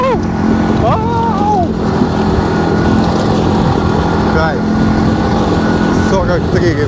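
Several quad bikes (ATVs) climb a hill along a forest strip toward a lookout near Natukhaevskaya, Anapa, their engines droning loudly and steadily throughout, with rising whines and wind noise as people talk over them.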